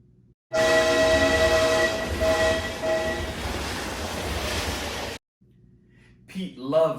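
A passenger train blasts a long, loud horn for several seconds, then cuts off abruptly into quiet, followed by a brief voice.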